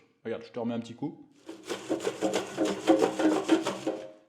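Pre-cooked fries tossed in an air fryer basket, a run of dry rattling, clattering knocks lasting a few seconds, following a short spoken phrase.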